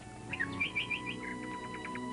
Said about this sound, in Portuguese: os passarinhos são os donos das árvores